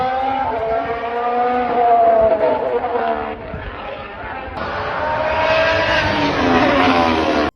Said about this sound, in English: that same engine is screaming around Circuit de Catalunya